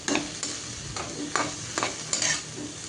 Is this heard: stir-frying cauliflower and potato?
yes